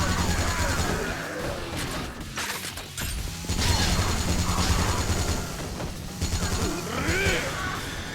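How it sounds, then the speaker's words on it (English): A minigun robot arm firing in the video game Yakuza Dead Souls, with dense rapid bursts of gunfire and mechanical clatter that run almost continuously, pause briefly, then resume with crashing impacts. "He just turns up with a robot hand that turns into a fucking minigun."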